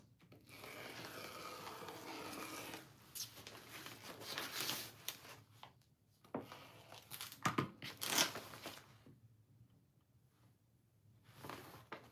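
Scissors cutting fabric lining pieces on a sewing table, giving soft, faint snipping and crinkling cloth sounds in irregular bursts with short pauses between them.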